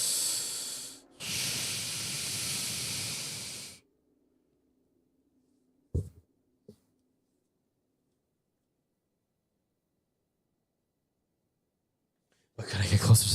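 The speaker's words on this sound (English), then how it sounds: "But can I get closer so I can hear the breathing?" Heavy breathing in the horror game Visage, a loud hissing, breathy stretch lasting a few seconds, then near silence with a couple of faint knocks before another breathy burst at the end.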